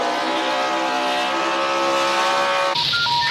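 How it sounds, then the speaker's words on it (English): Race car engines at a NASCAR race in Las Vegas: a loud, steady multi-engine roar with droning tones throughout, shifting abruptly near the end into a higher, thinner whine. "Gentlemen, start your engines."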